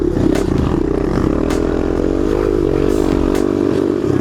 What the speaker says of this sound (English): Everyone's struggling in the sand, flicking between gears.